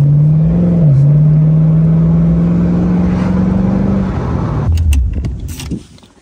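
A 1964 Datsun car engine holds a steady, close droning note that climbs slowly under light throttle, then drops away and gives way to a few clicks and rattles.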